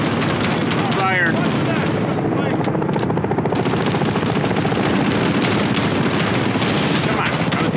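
Dense automatic and rapid gunfire from a Call of Duty Modern Warfare campaign battle rattles on continuously, loud and close, with bursts overlapping into a steady barrage and shouted voices buried under the shooting.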